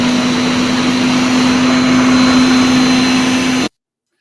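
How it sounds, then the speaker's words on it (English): Steady, loud machine drone with a constant hum like a vacuum cleaner running, continuing evenly for several seconds before cutting off abruptly into silence. "it sounds like it is a vacuum cleaner, Marco."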